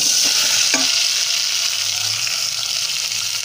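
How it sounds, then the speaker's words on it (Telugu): Tomatoes frying in about two tablespoons of hot oil in a bowl, a loud, steady sizzle close up with a sharp clink of a utensil early on. "ఆయిల్లో టమాటాలు వేస్తానండి, ఉడుకుతూ ఉన్నాయి."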